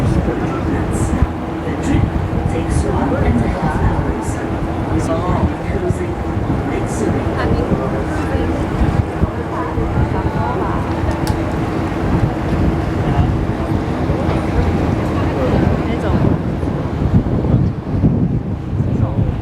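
A large tour ship cruises Lake Zurich, its low engine drone and water rumble running steadily beneath buffeting wind on the microphone, with a person talking over it throughout.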